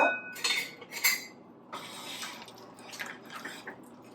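Thick breakfast oatmeal is scooped and served into two bowls, with clinking spoon-on-dish taps and soft wet scraping and plopping sounds, fairly close and quiet, with no talking.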